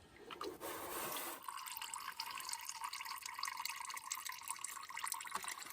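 Motor oil drains from a car's oil pan in a steady, gurgling trickle, faint and continuous, with a brief louder splash at the start.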